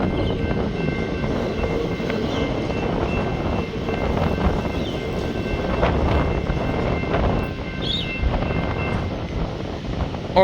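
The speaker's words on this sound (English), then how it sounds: "it's windy" Strong wind buffets the microphone at a railway level crossing by the beach, a loud continuous low roar with gusty swells that dominates the scene, no voices over it.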